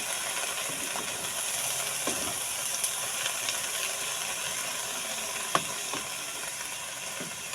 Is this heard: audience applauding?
no